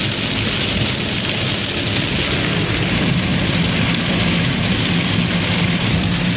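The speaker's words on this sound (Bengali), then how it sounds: "দেখতে পাচ্ছেন সামনে কিছুই দেখা যাচ্ছে না বৃষ্টির জন্য, একদম অন্ধকার হয়ে আছে" Heavy rain drums steadily on a car driving through a dark downpour on a Dhaka road, a dense, even roar with no pauses or voices.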